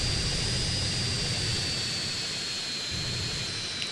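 A jet aircraft roars in the video game GTA San Andreas during an aerial mission, its engine a steady, loud, broadband rush with a thin high whine held throughout, with no talking.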